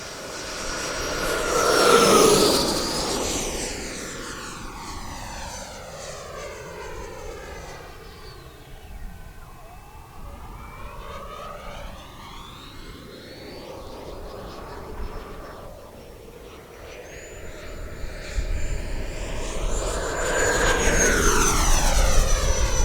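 An FMS Super Scorpion V2 model jet with a 90mm electric ducted fan whines through the sky in a steady high-pitched rush, its pitch sweeping up and down as it passes, loudest at the start and again toward the end.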